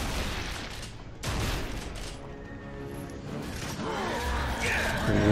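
Gunfire in the Gears of War video game, a close, dense burst of shots and booms with mechanical clatter, loud throughout with scattered voice sounds.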